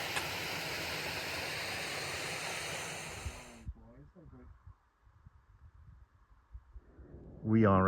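Small unnamed brook tumbling down at the foot of William Clough near Kinder Reservoir, a close steady hiss of running water that cuts off abruptly, followed by quiet outdoor ambience and a voice speaking at the end.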